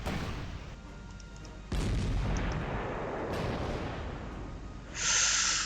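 Artillery fire in the WWII strategy video game Rommel: sudden heavy blasts land at intervals, each followed by a long rumbling roar, with a final bright crackling burst near the end.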